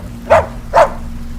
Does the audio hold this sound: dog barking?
yes